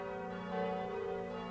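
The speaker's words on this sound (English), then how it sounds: "when Quasimodo rang the bells for Mass" Church bells of Notre Dame ring for Mass in a sustained, resonant chime that hums steadily throughout, with no voices.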